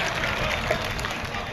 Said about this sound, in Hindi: एक बार ज़ोरदार तालियां बजाकर मुझे इजाज़त दीजिए।